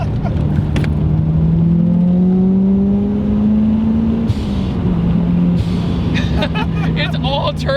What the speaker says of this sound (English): It's all turbo noise.